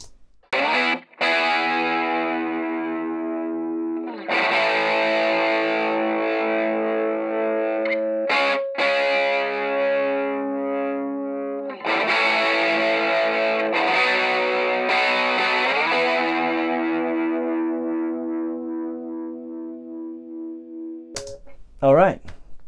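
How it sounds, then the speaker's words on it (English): Clean, dry electric guitar with no flanger engaged, strummed chords ringing out in a loose groove, loud and close with pauses between phrases and no talking over it. "we'll have a listen dry to the guitar"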